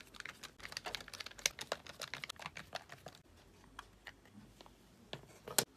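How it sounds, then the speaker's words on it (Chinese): A screwdriver loosens screws on the back of a three-prong plug, giving close, irregular clicks and small plastic ticks and scrapes, quiet overall with one sharper snap near the end. "先找个螺丝刀把后面的螺丝给它拆掉。"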